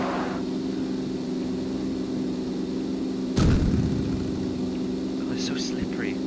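A motorbike engine in a video game holds a steady low drone throughout, with a brief louder burst about halfway through and faint chirps near the end.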